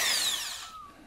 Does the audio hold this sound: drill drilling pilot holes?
yes